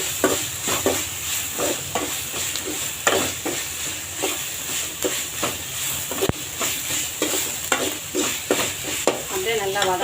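Onions and tomatoes sautéing in a pan, a steady loud sizzle broken by a regular run of scraping stirs throughout, with no speech.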